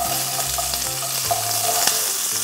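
Diced onion sizzling in hot oil in a pan for lamb goulash, a close, even crackling fry with a faint clink of a utensil, no voices.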